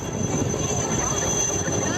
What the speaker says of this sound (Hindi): हेलीकॉप्टर से ये रेस्क्यू ऑपरेशन तट रक्षक बल ने चलाया।